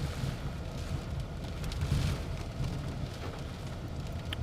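Rain patters outdoors in a steady, moderate hiss as a shower begins, mixed with some wind buffeting, with no one speaking.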